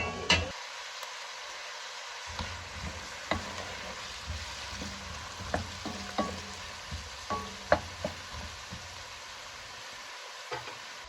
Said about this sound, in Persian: در اینجا گندم سیاه رو به پیاز داغمون اضافه میکنیم